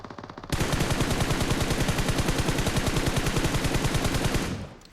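Sustained automatic weapon fire in the mobile battle royale game BGMI, a rapid, steady stream of loud, evenly spaced shots lasting several seconds before cutting off abruptly, with no voices over it.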